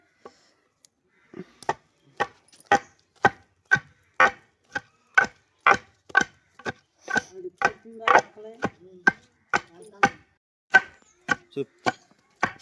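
Jujube fruits and jaggery are pounded in a stone mortar in a steady rhythm of about twenty sharp, close thuds spaced roughly half a second apart, with small scraping sounds between strikes.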